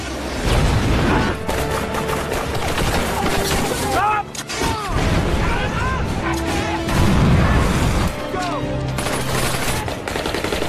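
Artillery fire striking a defensive camp in a war film, a dense, loud barrage of booms and rapid gunfire running continuously under a dramatic score, with voices faintly shouting amid the blasts.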